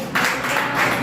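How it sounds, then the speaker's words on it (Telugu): A church congregation clapping during a Telugu Christian sermon, a quick burst of several loud claps in a reverberant hall, lasting about a second. "నమ్మిన వారు గట్టిగా చప్పట్లు కొడతారా?"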